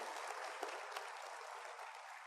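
Steady applause from a church congregation at a Full Gospel service, a continuous even wash of clapping at a moderate distance, with no talk over it.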